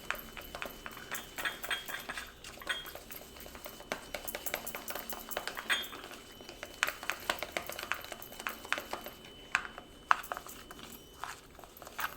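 A spoon stirs hair dye powder in a bowl, giving soft, irregular scraping and clinking strokes that run steadily throughout at low volume with no voices.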